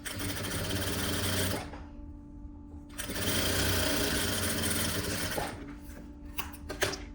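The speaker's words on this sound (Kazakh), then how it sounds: "Одан кейін мынау ұзына бойы тігіп шығамыз." A sewing machine stitches fabric lengthwise in bursts, a fast, close mechanical whirring that runs, pauses about a second, runs again for a longer stretch and then slows into a few short stitches, with no one speaking.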